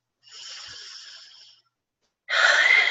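Two slow, deep breaths close to the microphone, a soft airy inhale followed after a pause by a louder, rushing exhale.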